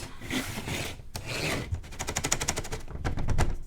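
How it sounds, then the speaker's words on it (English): Resin mold being banged and shaken to knock out chalk, a series of rough scraping rubs followed by a rapid rattling clatter of hard knocks, close and loud with no talk. "And then I shake it or I bang it out."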